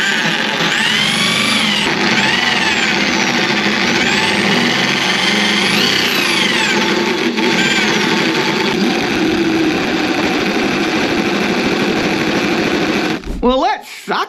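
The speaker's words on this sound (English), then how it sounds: "Let's test out the bloody drill bit before we sharpen it." A power drill running a drill bit, a steady loud motor whine with rising and falling pitch that runs without break for about thirteen seconds and then cuts off abruptly.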